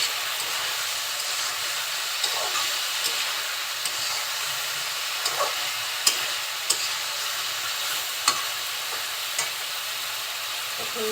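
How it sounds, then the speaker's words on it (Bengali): Curry of cauliflower, beans, potato and tomato bubbles and sizzles in a pan, a constant hissing wash with scattered faint clicks and taps of a stirring spoon, steady and unbroken throughout. "কিছুক্ষণ নেড়ে চেড়ে নিব যাতে যে ঝোলটা আছে সেটা মরে যায়"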